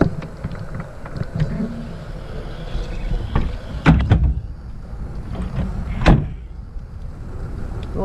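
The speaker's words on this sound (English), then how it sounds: "Both doors close nice and everything." A 1955 Chevrolet Bel Air four-door station wagon's door shuts with a solid thump, then a second door closes a couple of seconds later, against quiet background noise.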